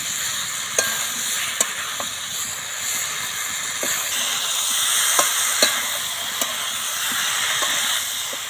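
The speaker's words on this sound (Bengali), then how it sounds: "আলু ভালো করে নাড়াচাড়া করে নেব" Jackfruit and potatoes stirred through a sizzling spice masala in a pan, a steady frying hiss with scattered sharp scrapes and knocks of the spoon, close and alone with no voices.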